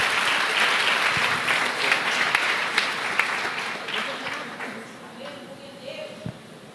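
A congregation welcomes a preacher with applause at a church service in Brasília, a dense round of clapping with a few sharp louder claps that gradually thins out.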